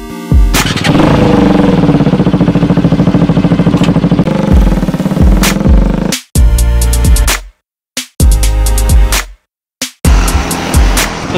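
Bajaj Pulsar RS200 motorcycle fitted with an SC Project exhaust revving hard and close, sustained loud blares cut by sharp throttle blips and abrupt silences between bursts.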